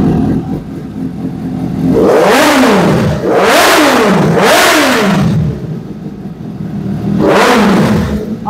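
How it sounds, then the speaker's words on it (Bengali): A superbike engine revs hard in several loud, rising and falling bursts, a couple close together, then a pause and one more throttle blip, with the engine idling between revs. "স্টার্ট দিয়ে সবাইকে একটু সুপার বাইকের সাউন্ডটা শুনিয়ে দাও"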